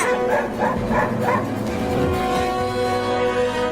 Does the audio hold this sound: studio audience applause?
no